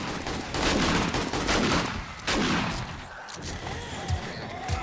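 AK rifle fire in the survival game 7 Days to Die, with bursts of rapid shots and impacts crowding the first half, then scattered loud cracks and thuds amid background game noise.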